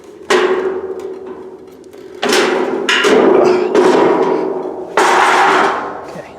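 Ferris Z3X mower with a Rack'em grass catcher being unhooked and lifted off, giving several loud close plastic-and-metal clunks and thumps with scraping rattles between them, no talking.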